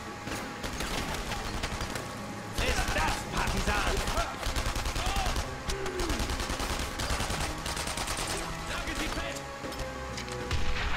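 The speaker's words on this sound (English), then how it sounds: "that's probably a cannon." Heavy cannon fire and other gunfire in the World War II shooter game Enemy Front, repeated loud booms and blasts over continuous battle noise, with someone talking over part of it.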